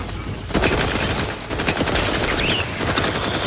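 Sustained rapid automatic fire from a mech in the video game Outer Worlds 2, loud and dense, in continuous bursts with a brief gap near the start and another midway.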